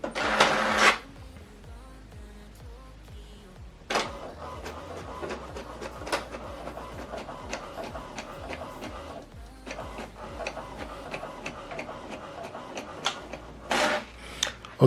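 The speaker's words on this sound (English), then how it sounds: "Now this document is printing." An HP DeskJet 3700 inkjet printer prints a document nearby: soft clicks and rattling carriage movement, with louder mechanical bursts at the start, middle and end.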